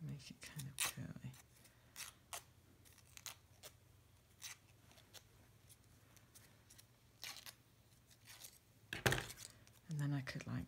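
Scissors snip and scrape against paper, curling it for a mask, in a handful of short, sharp bursts, spaced irregularly, with a quiet voice briefly near the end.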